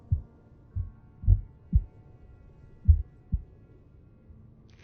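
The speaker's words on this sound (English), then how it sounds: "With the very loud heartbeat." Deep, booming heartbeat thuds from a haunted house video game, arriving in uneven pairs and singles, loud and low with almost nothing else around them.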